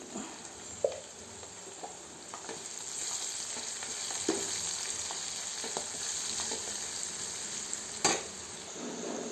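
Broad beans and gongura curry with chili powder and coriander powder frying in a pan, a steady close sizzle with occasional stirring clinks and scrapes, no voices.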